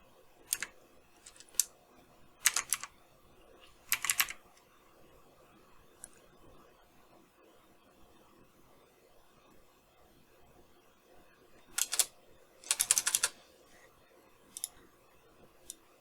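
Someone types on a computer keyboard, making short bursts of quiet clicking keystrokes separated by pauses, in a quiet room with no talking.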